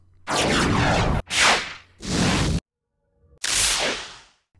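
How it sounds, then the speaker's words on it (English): Four swooshing whoosh sound effects play one after another from a sound-effect library, each a loud, broad rushing sweep lasting under a second, the first three back to back and the last after a short silence. "You should find close to 100 different whoosh effects."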